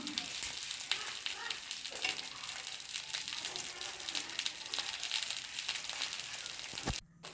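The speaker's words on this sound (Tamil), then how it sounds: "இங்கே நம்ம தேய்ச்சி வச்சுருக்கிற பரோட்டாவை எடுத்து கல் மேலே அழகாக போட்டு விட்டுறலாம்" Parotta frying in oil on a hot griddle, a dense continuous sizzle and crackle close by, with a brief handling noise and a cut near the end.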